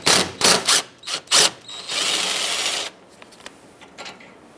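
Bursts of a power tool driving out an 8mm-headed bolt on the AC condenser of a 2008-2010 Ford F-250 Super Duty, several short whirs followed by a longer steady run, then quieter clicks and rattles.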